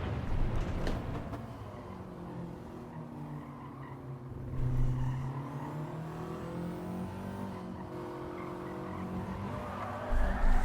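A race car in the Gran Turismo licence test A5 on consecutive corners, with a steady engine drone and tire scrub as it slides off a curb, heard alone at moderate level.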